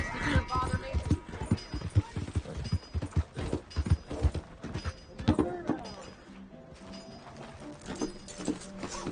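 Horse hooves clip-clop in steady rhythm in a video game, loud and close, with someone talking over the hoofbeats.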